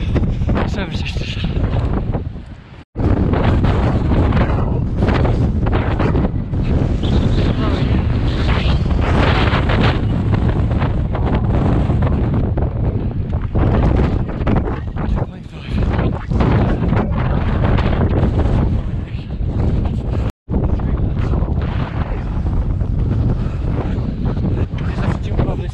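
Coastal wind roars across the microphone during a ride along the Sussex coast toward the Seven Sisters, a loud, continuous buffeting rumble with two brief dropouts, while a voice speaks occasionally beneath it.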